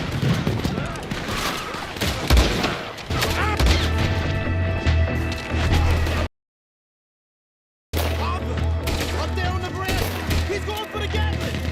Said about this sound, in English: Arthur shoots the dynamite with a sniper rifle, causing a big shootout.